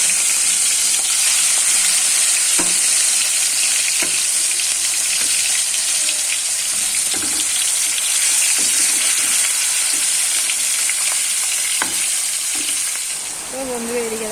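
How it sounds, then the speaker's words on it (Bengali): Fish pieces fry in hot oil outdoors, a loud, close, continuous sizzle and hiss with scattered pops and soft stirring taps, fading slightly near the end. "আমি ভাবলাম মাছ ভাজাগুলো ভেজে নিই পেটির মাছগুলো সব ভাজা হবে তো যে তেলটাও গরম হয়ে গেছে"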